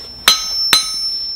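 A hammer strikes a 140 lb Trenton anvil twice. Each blow gives a loud, bright ring that hangs on and fades slowly, with the two hits about half a second apart.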